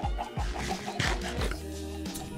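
Chickens in the Minecraft video game give several close, choppy clucks and squawks in quick irregular bursts, fairly loud with no talk.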